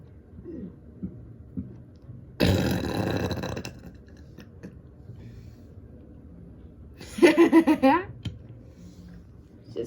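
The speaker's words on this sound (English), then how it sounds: "Who's up for a burping contest?" Two people trade loud burps in a burping contest. One long, rough belch comes first, and after a pause a second burp follows in choppy pulses.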